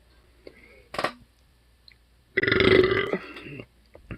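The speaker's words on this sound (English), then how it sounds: "Ooh, that was a nice burp." A long, loud, throaty burp rolls out close by after a few soft clicks and murmurs, followed by brief quiet sounds.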